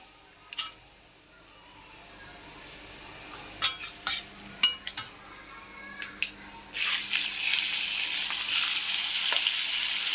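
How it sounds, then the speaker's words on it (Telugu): Bitter gourd pieces frying in a pan, with scattered stirring scrapes and clinks early on, then a loud, steady sizzle that takes over in the last few seconds; no talking. "ఇప్పుడు కాయల్ని చక్కగా ఫ్రై చేసుకోవాలి ఎర్రగా"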